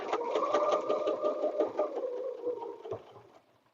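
Sewing machine stitching quilting lines through a quilted butterfly bed runner, a steady close whirring run that slows and stops near the end.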